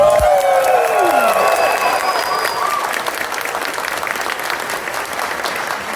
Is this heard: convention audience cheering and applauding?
yes